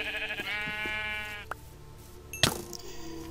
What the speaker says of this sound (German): Ich habe Schafe gefunden.